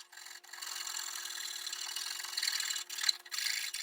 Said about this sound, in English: I also have this giant round file, which is nice for working on the hole.